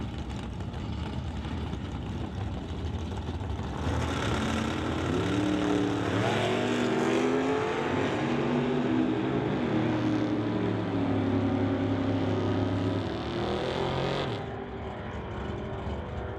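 Two drag racers, an old car called Yeller 4 and a Chevy pickup, launch down the strip together, engines swelling into a loud sustained roar that holds for about ten seconds before easing off, over a steady background rumble.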